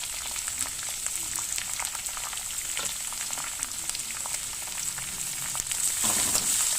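Onions and green chillies sautéing in a pan for Khandeshi-style vangyache bharit, a steady close sizzle with light crackles that swells slightly near the end.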